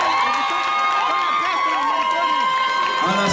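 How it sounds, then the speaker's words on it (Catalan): An audience claps and cheers steadily at a school Olympiad opening festival, a dense continuous wash of applause with a voice speaking over it. "un aplaudiment"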